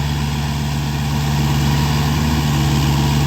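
Komatsu PC60-5 excavator engine idling outdoors in hill country near water, a steady low rumble with a pulsing diesel throb that holds constant and close throughout, no voices.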